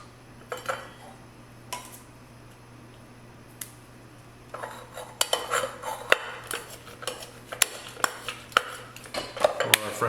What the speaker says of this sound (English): we'll muddle some lime and mint in the bottom of a glass.